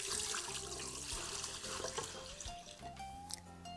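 Four cups of water poured into a rice cooker for barley, a bright continuous splashing trickle heard close and fairly quiet, with no talk.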